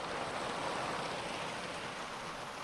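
Steady rain falling in an even, hissing wash, soft and continuous with no pauses or other sounds.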